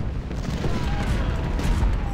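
Booming cannon fire in the Civil War strategy video game Ultimate General: Civil War, a heavy rumbling volley of low blasts rolling continuously, loud and close.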